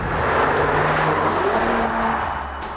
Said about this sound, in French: le V6 de cette version 400, il pousse bien volontiers la chansonnette